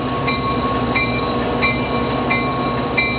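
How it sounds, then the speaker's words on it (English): A northbound Amtrak passenger train makes a station stop at Klamath. A steady rumble of rail cars runs throughout, with a bright ringing tone repeating about every 0.7 seconds, and no voices. "a northbound Amtrak made a station stop at Klamath"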